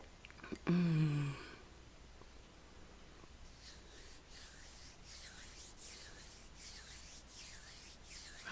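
Hands rub together in soft, rhythmic strokes, about seven gentle swishes, quiet and close after a brief louder sound at the start.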